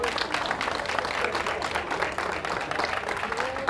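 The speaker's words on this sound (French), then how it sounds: "Je vous prie de vous applaudir d'abord très fort." A large crowd at an outdoor May Day workers' rally claps steadily in dense, continuous applause, with faint voices mixed in.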